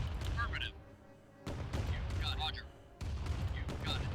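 In Command & Conquer Remastered, turrets fire at units in three loud, repeated bursts of booming shots, with voices speaking over the battle noise.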